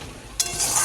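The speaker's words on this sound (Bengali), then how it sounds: "ভালো করে মশলাটাকে নাড়াচাড়া করে নিতে হবে এর সাথে।" Spices and onions fry and get stirred in a pan with yogurt-marinated meat cooking nearby, a near sizzle rising sharply partway through with a scraping stir, no voices.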